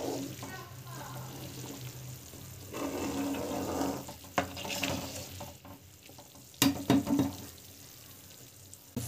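A pot of fish curry bubbles and sizzles steadily at close range, with occasional stirring clinks and scrapes.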